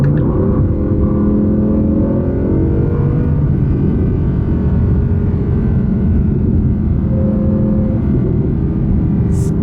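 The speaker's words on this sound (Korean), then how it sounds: "엔진음이 거칠면서도 부드러운 그런 면모를 보여주기도 하는데" An Audi R8 V10 Performance engine rumbles loudly and steadily at close range, a deep sustained drone without sharp revs.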